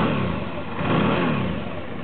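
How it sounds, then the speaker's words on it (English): A Suzuki DL 650 V-twin motorcycle engine heard close and loud in a brief, dense rumbling burst that swells slightly midway, as if blipped. "Okay, once more, the V-twin engine for you"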